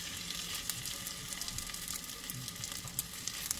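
Cooked glutinous rice meets hot sugar and coconut oil in a pan, giving a soft, steady sizzle with light crackles and faint stirring, quiet and close.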